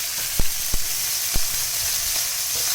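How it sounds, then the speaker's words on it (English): Steady, close sizzling of steaks frying in a pan, a dense crackling hiss broken by a few sharp taps and clinks. "You can hear them steaks sizzling."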